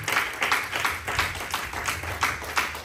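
A church congregation applauds the Lord with steady, rhythmic clapping that pulses at a regular beat throughout, moderately loud and close.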